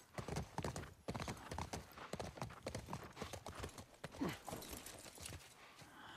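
Horse hooves clip-clop in The Last of Us Part 1 video game, a steady, fairly close run of hoofbeats at a walking pace with a soft snort partway through.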